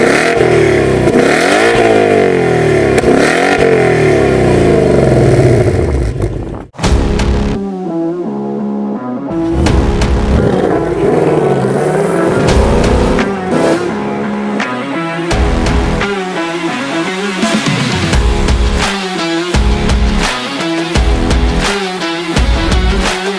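A 2025 Ford Mustang GT V8 being driven, its engine revving and surging loudly from nearby through the gears, with a short lift-off around the middle before it pulls hard again.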